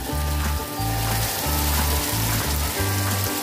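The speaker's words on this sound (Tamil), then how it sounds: "தக்காளியை சேர்த்துட்டு நல்லா வதக்கி விடுங்க." Tomatoes sizzling as they are sautéed in a pan for a vanjaram (seer fish) head fish curry: a steady bright frying hiss that runs throughout, with an intermittent low rhythmic hum underneath.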